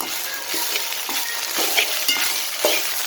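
A spatula stirs cauliflower and egg fry in a hot pan, giving a steady close sizzle broken by regular scraping strokes about every half second, with no talk.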